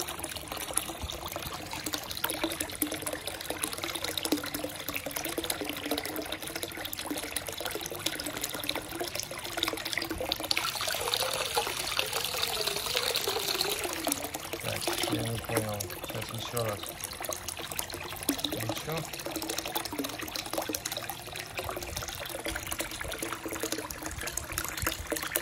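Water flows out of a heater into a Bestway above-ground pool as a continuous trickling, splashing stream that runs steadily throughout, with someone talking over it at times.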